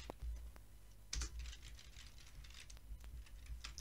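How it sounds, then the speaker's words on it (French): Typing on a computer keyboard while entering text to install a JWT authentication bundle in Symfony, with quiet, close, irregular key clicks in short bursts and small clusters, and no talking. "Donc, on va taper JWT"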